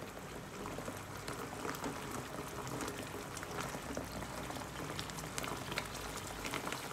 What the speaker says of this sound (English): let the curry boil for some time, let the masala boil